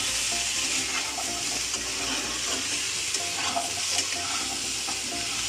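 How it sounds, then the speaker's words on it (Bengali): Okra fries in a pan as salt is stirred through it, with a steady hissing sizzle and soft scraping stirs close by. "এটা ভালো করে মিক্স করে নিচ্ছে।"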